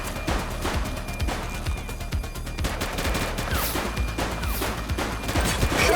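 Rapid gunfire from The Precinct police game, dense overlapping shots and bursts cracking loudly throughout with crashes mixed in, no voices.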